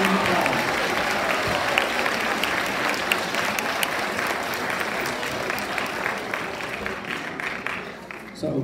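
A school audience gives a long, loud round of applause for two guest speakers, dense clapping sustained throughout and tapering slightly near the end.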